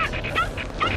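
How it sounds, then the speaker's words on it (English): Puppy in BioShock Infinite gives quick, high yips and barks in a rhythmic series, close and fairly loud over a steady game background hum. "A puppy?"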